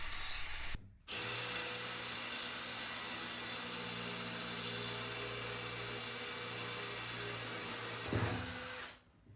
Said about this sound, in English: we do have to create a new steel strip and drill a couple of extra holes